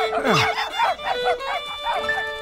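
Puppies yip and bark in quick high-pitched bursts with a whimpering edge, several short calls close by over a steady tonal background.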